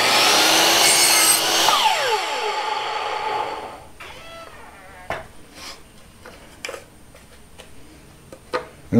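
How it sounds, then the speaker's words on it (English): Power saw cutting an 18.5 degree double miter in wood, a loud cut for about four seconds as the blade winds down, followed by scattered knocks and clicks. "now we're going to set the saw to the other side and do the same thing"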